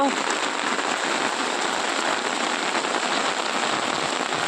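Heavy rain pours onto farm fields in Banaskantha district, a dense, unbroken roar of drops hitting the ground and puddles, loud and constant throughout.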